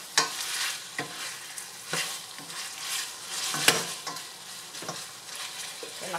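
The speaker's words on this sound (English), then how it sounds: "we're going to add our onion, saute it lightly, and mix it with the meat" Onion and pork for pancit sizzle steadily in a hot pan while a utensil stirs and scrapes every second or so, making crisp, close scraping strokes over a constant frying hiss.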